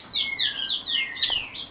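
Several pet birds of different kinds chirp close by in quick, bright bursts of tweets that overlap in a steady run of calls.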